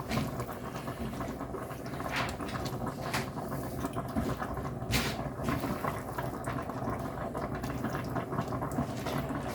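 Pasta sauce simmering and bubbling steadily in a pan on rising heat, its water cooking off in a continuous close wet hiss with small pops and no talking.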